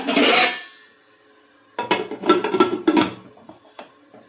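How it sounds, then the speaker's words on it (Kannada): A pressure cooker lid being fitted and locked in a kitchen: a loud metallic scrape, a pause, then a run of clanks and rattles up close, with no talking. "ಇವಾಗ ಇದು ಕುಕ್ಕರ್ ಕ್ಲೋಸ್ ಮಾಡ್ತಾಯಿದ್ದೀನಿ."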